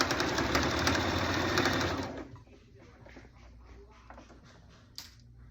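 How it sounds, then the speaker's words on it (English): A sewing machine runs steadily for about two seconds while top stitching a car seat cover, then stops, leaving a faint hum and a small click near the end. "So now we're gonna do our top stitching."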